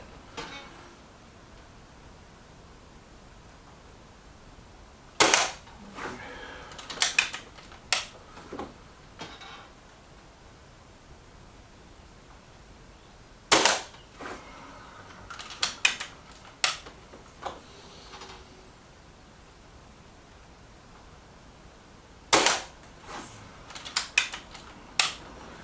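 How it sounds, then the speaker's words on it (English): A Reximex Zone air gun fires FX 16 grain pellets at a target in three separate volleys, each a sharp crack followed by quick clicks of the action being cycled, with quiet stretches between groups. "10 shots into a standard target."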